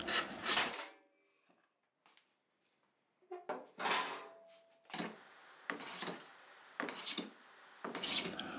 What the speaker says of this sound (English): for each piece I'm sawing out every part and making it the correct length